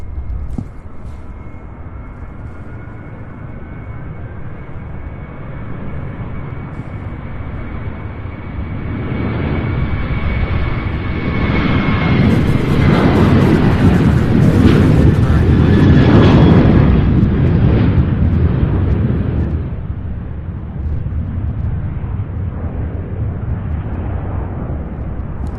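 A Southwest Airlines jet takes off from Louisville International Airport, its engine whine rising into a broad, loud roar that peaks midway and then fades as the aircraft climbs away, heard from the distance.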